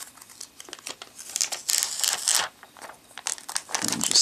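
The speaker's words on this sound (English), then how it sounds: "So let's open this up, pull it out of the plastic here" A Nexus 7 tablet box slides free of its plastic wrapping with loud, close crinkling and rustling in irregular bursts, briefly pausing and then resuming.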